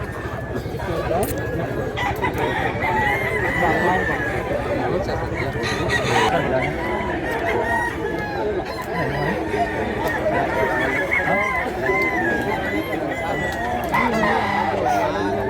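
At a busy chicken market in Mantalungon, Cebu, many roosters crow and hens cluck nonstop, a loud layered chorus beneath steady crowd noise and people talking nearby.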